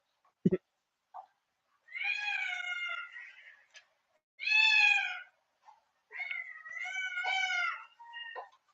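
A house cat meows indoors in several drawn-out, wavering calls with short pauses between them, close and fairly clear, plus a brief knock near the start; no speech over it.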